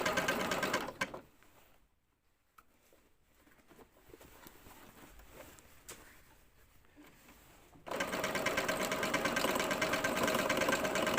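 A sewing machine stitches a repair on torn trousers: a fast, loud mechanical whir runs for a second, drops to quiet handling for several seconds, then starts up again and runs steadily to the end.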